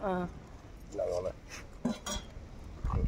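A metal lid settles onto a cooking pot over an outdoor wood fire with a couple of short clinks and clanks, and a voice speaks between the knocks.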